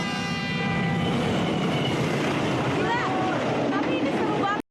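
A train rumbles steadily along with a layered, droning roar; some faint tonal squeals rise near the end before it cuts off abruptly.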